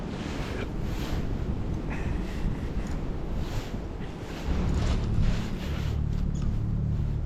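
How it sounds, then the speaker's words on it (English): Strong cold wind buffets the microphone while fishing outdoors, a loud continuous roaring rumble that swells and gusts harder partway through, with no talking. "the wind just blasts you so much"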